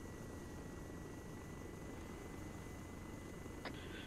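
Black Hawk helicopter in the video game Arma 3 during a Mogadishu mission: a steady, loud rotor and engine drone fills the cabin, constant throughout, with a brief high click near the end.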